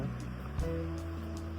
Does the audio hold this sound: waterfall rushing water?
yes